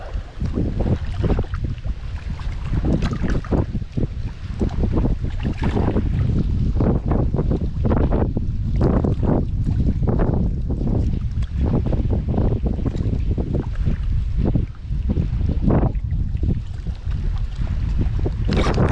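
Steady wind buffets the microphone while bank fishing, with low rumbling gusts throughout, continuous and loud, with faint water sounds beneath.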